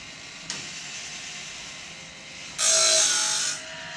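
GrindLux 4000 grinder sharpening a bandsaw blade at the gullet, with a steady rubbing whir that rises into a louder, harsher grinding burst for about a second near the end.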